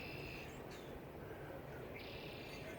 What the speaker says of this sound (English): I hope you're able to hear the rich chorus of birds that are all around me right now.